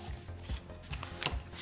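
Playing cards are shuffled under a table in short soft riffling bursts and taps, faint and muffled, with no talking.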